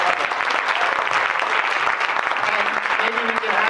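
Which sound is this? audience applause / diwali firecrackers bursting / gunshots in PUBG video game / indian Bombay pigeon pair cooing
audience applause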